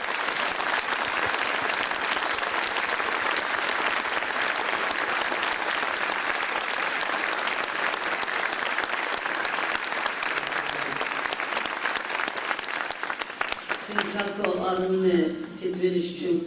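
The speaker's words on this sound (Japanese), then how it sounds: "皆さん大きな拍手でお願いいたします。" A symposium audience breaks into loud, sustained applause for a donation being presented, dense clapping that runs long before thinning out as a voice begins speaking near the end.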